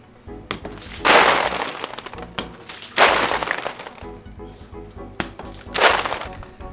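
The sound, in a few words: tempered vehicle window glass shattering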